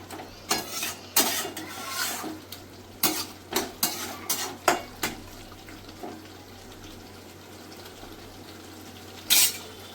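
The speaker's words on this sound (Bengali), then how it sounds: "এবার 5 মিনিট আমি একটু ফুটিয়ে নিয়ে নেবো।" Pui shak with a hilsa fish head simmering in a pan, heard as a series of clinks and scrapes from stirring with a utensil, then a quieter stretch of gentle bubbling and one last knock near the end.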